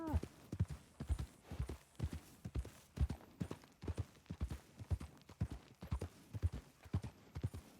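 Horse hooves in the video game Red Dead Redemption 2 clip-clop in a steady trotting rhythm, clear and close, with a brief bit of talk mixed in.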